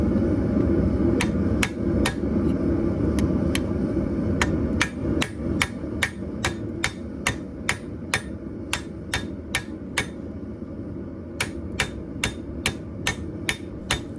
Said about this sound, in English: so I'll use a hardy hole tool to help set in that choil